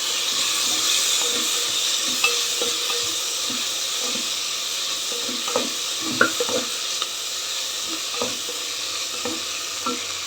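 Slit green chillies frying in a pan with tamarind, giving a steady broadband sizzle with soft stirring clinks and scrapes throughout, close and fairly loud, with no talking.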